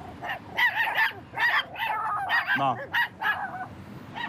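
Several dogs barking and yelping inside a parked car on a hot 30-degree day, sharp repeated barks in quick bursts, fairly close, with a single short spoken word among them.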